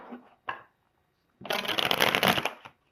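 Tarot cards are handled and shuffled close by: two brief soft taps, then a longer dense riffling burst of card shuffling lasting about a second, with a final light tap.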